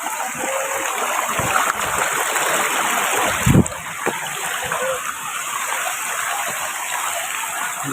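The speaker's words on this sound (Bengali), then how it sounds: "দেখতে পাচ্ছেন এই যে মায়াবী ঝর্ণা।" Mayabi waterfall in Sylhet, running low on water, pours with a steady close rushing splash, broadband and continuous with a few louder splashes, outdoors with no talk over it.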